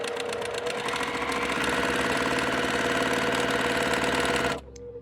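Sewing machine stitching a quilt block seam runs at a fast, steady mechanical whir with rapid needle clatter for about four and a half seconds, then stops abruptly, leaving quiet.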